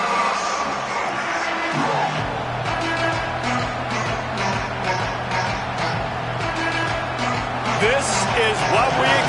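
A stadium crowd at a college football game, Indiana at Penn State, roars and cheers steadily throughout, with a commentator talking over the loud, continuous noise.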